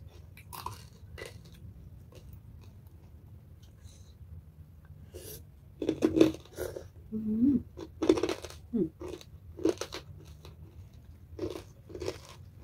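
Crisp Thai pork rinds (khaep mu) crunch between the teeth in a run of loud, close bites after a quiet start, with sniffs and small mouth noises between them.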